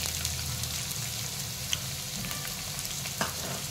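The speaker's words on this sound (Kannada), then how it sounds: "ಬಾಣಲಿ ಬಿಸಿಯಾಗೈತೆ. ಈಗ ಎಣ್ಣೆ ಹಾಕೋಣ. ಎಣ್ಣೆ ಬಿಸಿಯಾಗೈತೆ. ಈಗ ಈರುಳ್ಳಿ ಹಾಕ್ತಾ ಇದ್ದೀನಿ ನಾನು." Onion fries in hot oil in a pan for veg fried rice, with a constant close crackling sizzle and a few sharper pops, heard without any voices.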